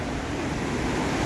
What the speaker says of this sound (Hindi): ये देखिए ये है आपकी अलकनंदा, और साउंड कितना अच्छा लग रहा है इस वक्त है ना